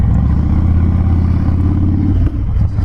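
Harley-Davidson Dyna Wide Glide V-twin engine pulling hard under acceleration, a loud close throbbing low rumble with a steady rising pulse, briefly dipping near the end as if shifting gear.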